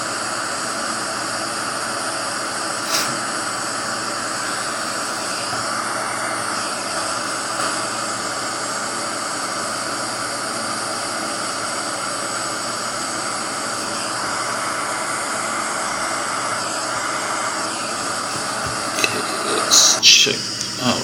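A jet airliner engine drones in flight in the Infinite Flight game, a constant loud hiss and whine held steadily throughout, with faint tonal shifts and a brief burst of sound near the end.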